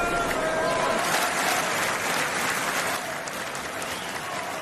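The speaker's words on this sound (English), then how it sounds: "Crowd loving this matchup." Dense, loud crowd cheering and applause at a WWE Crown Jewel 2024 wrestling event during a Carmelo Hayes triple threat matchup, steady roar throughout that eases slightly near the end, with a commentator's voice faintly under it.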